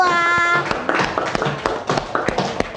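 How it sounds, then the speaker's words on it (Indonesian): Students in a classroom clap for the second group after its presentation on muscle force, a short run of close, uneven hand claps that follows a brief sustained tone. "beri tepuk tangan untuk kelompok kedua"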